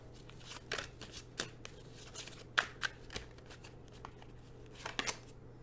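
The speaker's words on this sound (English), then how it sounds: "Going to pull another tarot card for you here." Tarot cards being drawn from a deck during a pick-a-card reading, heard as soft, scattered papery slides and flicks, close and quiet, with a few sharper snaps spaced irregularly over a low steady background hum.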